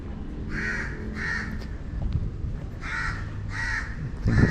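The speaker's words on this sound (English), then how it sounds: "I think it's that same crow from before." A crow caws outdoors in Malacca's colonial quarter, five or six harsh, evenly spaced calls in two groups at moderate distance, over a steady wash of traffic and city background noise.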